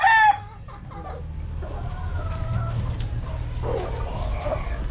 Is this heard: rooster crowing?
yes